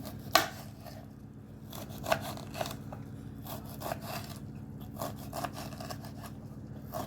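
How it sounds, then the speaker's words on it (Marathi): Vegetables being finely chopped with a knife on a board in a home kitchen, giving a few sharp, irregular knife strikes close by over a steady low hum. "ती भाजी बारीक चिरायची जरा म्हणजे पटकन शिजते"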